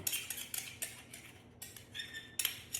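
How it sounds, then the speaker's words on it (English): Knife scraping and tapping against a dish of chocolate donut batter, a run of short close clinks and scrapes in uneven rhythm, faint and alone. "Let's add a knife to that and see how that goes."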